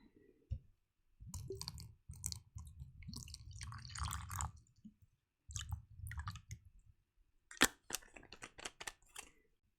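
A fresh bowl of water set up for watercolour painting: close, quiet sloshes and drips of water with small clicks and handling noises, arriving in short bursts between silences.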